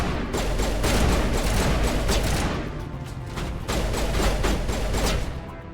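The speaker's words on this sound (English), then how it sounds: "Who the fuck is shooting at me?" Gunfire in the Mass Effect 1 video game, with rapid overlapping bursts of shots and sharp cracks over a dense rumbling battle din. It is loud and continuous, coming in waves across several seconds.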